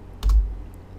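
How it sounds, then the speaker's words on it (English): A single sharp keyboard key press, close and clear, with a short thock and a faint click afterward, otherwise quiet. "you just press the enter key on your keyboard"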